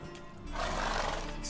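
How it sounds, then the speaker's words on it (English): A horse in The Witcher 3 video game lets out a loud, drawn-out neigh that swells after a quieter opening and carries on steadily to the end, heard alone without talk. "More than a few horses."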